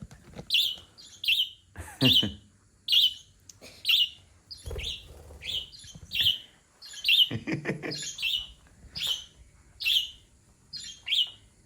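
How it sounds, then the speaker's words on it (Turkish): Repeated bright budgerigar chirps, about a dozen in a steady rhythm, close and clear, with faint rustling and low background noise between calls. "Ötme garantili muhabbet kuş sesiymiş."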